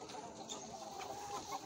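A flock of four-month-old crossbred fighting chickens clucks and chatters continuously in a dense, busy layer of overlapping calls, with no talking.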